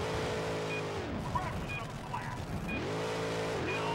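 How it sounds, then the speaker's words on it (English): Engine roar from a monster truck in the PS2 game Stuntman, revving and shifting pitch in rising and falling sweeps, loud and continuous with occasional tire noise throughout. "The monster truck is ready."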